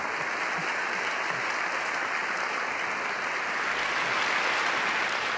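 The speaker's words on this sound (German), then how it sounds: "einen Applaus bekommen Sie natürlich" Steady audience applause for the Archbishop of Riga at a public talk, dense and continuous clapping from a crowd lasting throughout.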